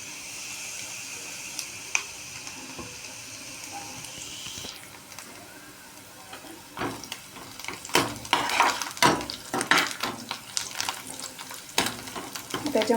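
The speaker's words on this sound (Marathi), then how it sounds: "आणि कांदा चांगला फ्राय होऊन देऊ. कांदा आपला ब्राऊन होत आला आहे." Chopped onion fries in a pan for dahi tadka and browns, giving a steady close sizzle. Clattering scrapes and bursts of louder hissing come in as it is stirred.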